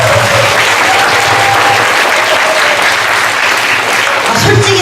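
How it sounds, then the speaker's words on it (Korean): A congregation at a Presbyterian church's all-member retreat worship service bursts into loud, dense applause that stays full and continuous for several seconds, with a faint voice underneath. "애 보는 사람 선생님을 위해서 박수."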